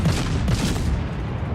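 Warship gun barrels firing in a tier 3 World of Warships battle, a dense continuous rumble of booming salvos with a few sharper reports near the start, heavy and loud throughout.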